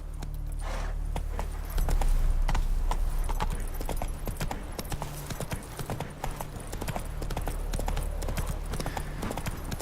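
Roach, a horse in The Witcher 3: Wild Hunt, galloping with a rapid, steady clip-clop of hooves over a low rumbling game ambience, close and continuous throughout.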